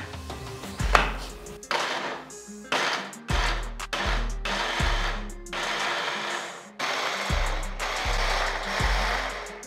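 A kitchen blender grinds cranberries for a sauce in about eight short pulses, the motor whirring up and winding down each time, with brief pauses between bursts.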